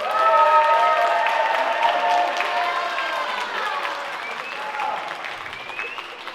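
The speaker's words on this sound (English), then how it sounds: "Give them a huge round of applause." Audience applause at a film festival awards gala, a broad sustained wash of clapping from a large crowd that starts loud and slowly eases off over several seconds.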